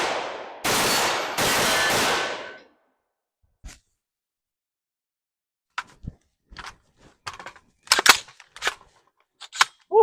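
A Palmetto State Armory AR-15 rifle fires outdoors: two loud, close shots ring out early, then a stretch of quiet followed by scattered sharp clicks and clacks of the action and handling.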